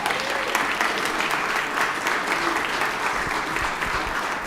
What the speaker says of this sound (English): That's right. That's applause.